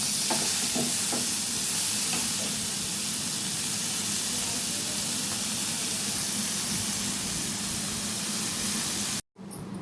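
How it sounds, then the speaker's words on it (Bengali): Prawns fry in a pan with a steady, dense sizzle and hiss that runs loud and close almost the whole way, then breaks off briefly near the end; a few faint stirring knocks sound early on. "এর মধ্যে দিয়ে নেব এই চিংড়ি মাছ। আর এটাকে ভালো করে আমি ভেজে নেব।"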